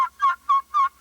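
Three short, clear yelps from a glass turkey call played with a striker, evenly spaced, each a raspy high-pitched note, close and fairly loud with no talking.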